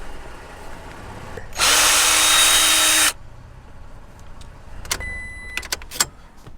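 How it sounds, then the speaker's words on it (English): A power drill spins for about a second and a half, removing steering column screws on a Toyota Tacoma, close and loud, followed by faint clicks and light handling noises. "So we've removed all 5 screws."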